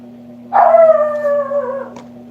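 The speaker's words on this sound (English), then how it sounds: "I'm also not too sure what he's barking at." A single drawn-out dog howl, rising sharply then trailing off, over a low steady electrical hum.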